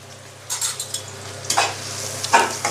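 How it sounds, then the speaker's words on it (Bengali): Chopped onion dropped into hot oil in a pan, a soft sizzle over a low hum broken by three short bursts of stirring and scraping, close up and without speech. "এখন আমি দিয়ে দিচ্ছি কেটে রাখা পেঁয়াজ কুচি। পেঁয়াজটা প্রথমে আমি ভেজে নেব"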